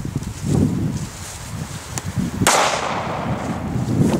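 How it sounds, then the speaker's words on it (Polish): A New Year's Eve firecracker goes off outdoors at night with one sharp, loud bang midway, set against a rough rustling and crackling background. "Petarda miazga."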